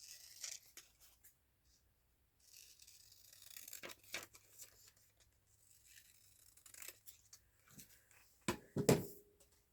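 Scissors snip and paper tears while a junk journal page is cut, a few quiet irregular cuts and rustles ending in two sharper snips, close by with no voices.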